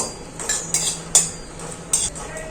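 Dry red chillies and small bay leaves frying in hot oil, a steady low sizzle broken by several sharp metal spoon clinks against the pan, close and without voices.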